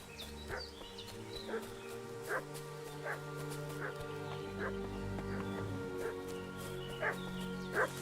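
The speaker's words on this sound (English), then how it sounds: "What's that dog making such a fuss about?" Dog in the Kingdom Come video game barks in short repeated yips and whimpers at a steady rhythm, fairly close, over a sustained droning game ambience.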